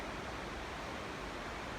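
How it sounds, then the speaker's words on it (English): A loud creek rushes beside a hot forest trail in a wild valley, giving a steady, dense broadband roar of flowing water with no break or change in level. "Can't really hear anything because I got that loud creek beside me"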